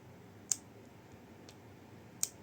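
A Zebra Delguard LX mechanical pencil's cap snapping into place, two crisp, sharp clicks about two seconds apart with a fainter tick between, close up over a quiet hiss.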